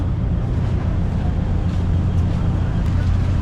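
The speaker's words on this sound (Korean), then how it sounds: "완전 큰 배인가 보다 차도 들어가네" A constant deep engine rumble and broadband wash of a large car ferry near Koh Samui, Thailand, steady and loud with no pauses.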